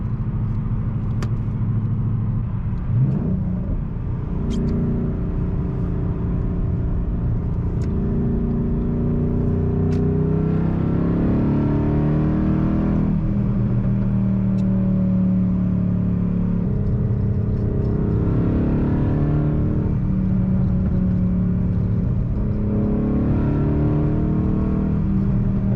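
A 2012 Mustang with a deleted resonator, Boss 302 sidepipe and SLP Loudmouth axle-back exhaust revs repeatedly, deep rumbling swells rising and falling over a steady loud idle, close by and with no talk.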